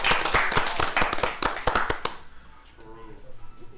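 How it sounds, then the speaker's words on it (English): A short burst of clapping for a gamer named Ethan at a power-rankings reveal: a few separate hand claps, fairly close and sparse, fading out after two seconds as talking and faint background sounds carry on. "So let's just give him a round of applause real quick."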